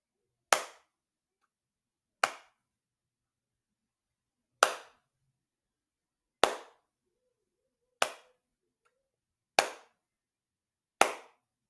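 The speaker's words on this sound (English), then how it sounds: "Clap like this." Seven sharp hand claps come one at a time, spaced unevenly and sounding clean and isolated, with each one decaying quickly into silence.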